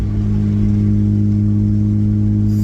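A loud, steady car engine drones close by in fifth gear with a deep rumble through a 3-inch exhaust, holding an even pitch throughout with no voices.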